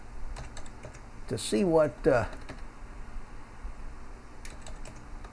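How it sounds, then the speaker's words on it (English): Close, rapid clicks of typing on a computer keyboard, arriving as short bursts with pauses between them while someone speaks quietly. "I'm going to type version"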